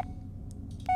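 Electronic phone keypad beeps in the Blair Witch video game: a steady dial tone at the start, then a short cluster of quick high beeps, ending in another loud tone, with no talking over them.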